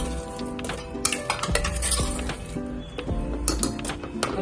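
Vegetables being stirred with oil in a pot for a Sindhi mixed vegetable curry, a steady clinking and scraping of a spoon against metal over a faint sizzle, no talking.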